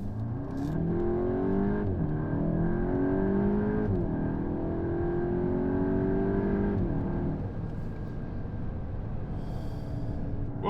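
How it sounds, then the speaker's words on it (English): Volkswagen Golf GTI CS accelerating on a mountain road, engine pitch climbing through several gears with brief dips at each shift, then settling into a steady cruise, heard from inside the car. "there's the driving experience of my GTI"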